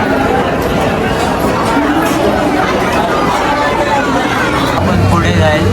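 Steady, dense babble of a large crowd waiting in a temple queue at Tuljapur, many voices blending into a continuous loud hubbub close around, with no single voice standing out.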